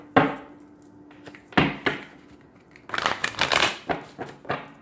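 Tarot cards are shuffled by hand in several quick riffling bursts, with short pauses in between, close and fairly quiet.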